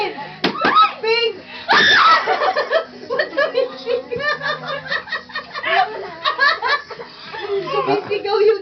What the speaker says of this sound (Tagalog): Sumisigaw yun.